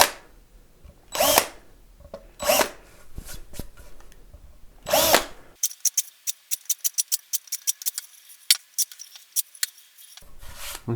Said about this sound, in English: go over any of these screw holes that I've just put in and put a very slight countersink into them